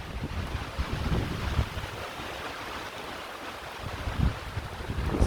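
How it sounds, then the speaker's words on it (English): Wind buffets and rumbles against a microphone in a steady, noisy rush, with gusts swelling and easing throughout; no one speaks. "So I didn't think it would be this windy in here."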